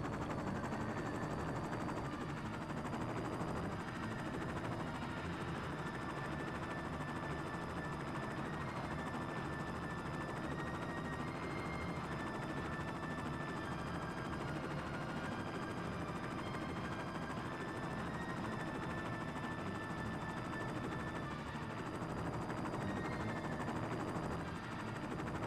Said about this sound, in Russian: Сейчас посадим вертолет.